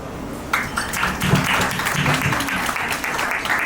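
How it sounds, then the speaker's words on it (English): A crowd at a retirement celebration breaks into steady applause, dense clapping that starts abruptly and continues evenly, with a few voices faintly mixed in. "Please clap."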